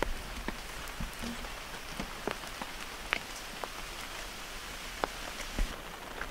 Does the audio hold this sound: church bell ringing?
no